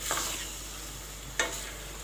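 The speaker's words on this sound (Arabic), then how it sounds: "شويه كده بس نشوحه بالثوم شويه" Green fava beans with garlic sauté in a pan with a soft, steady sizzle, broken by two brief scraping stirs about a second apart. No one speaks.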